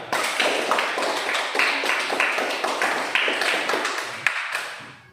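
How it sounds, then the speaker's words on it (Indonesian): A class of students claps together in a brisk, rhythmic unison pattern, loud and close, the beats landing roughly twice a second before tapering off at the end. "Tepuk tangan dulu biar semangat."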